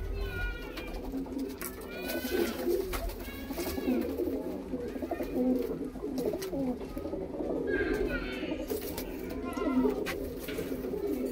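Punjabi loft pigeons at a rooftop perch coo steadily in low, throaty repeated calls, with a few brighter chirping notes mixed in over a constant background hum.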